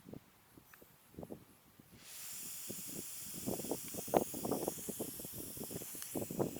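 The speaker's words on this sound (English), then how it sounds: "Okay, so we're leaking from here." Steady, fairly loud hiss of air leaking from a fitting while a .22 caliber Talon P airgun is filled with gas. It begins abruptly partway through and runs continuously, with scattered clicks and handling taps throughout.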